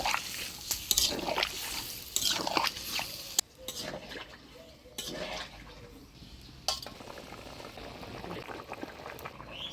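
Broth is poured into a pan of spiced potatoes and moringa drumsticks, making a sloshing, bubbling rush with drips and a few clinks of a metal utensil, loud at first and then settling to a gentler simmer.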